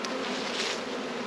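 Swarming bees at a beehive make a dense, continuous buzzing hum, close and steady throughout, with no voices.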